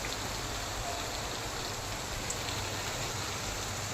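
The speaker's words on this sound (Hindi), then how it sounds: "ये देखिए बाहर बारिश हो रही है।" Steady rain falls outdoors, a dense continuous hiss of drops on surfaces, even and unbroken throughout with no voices.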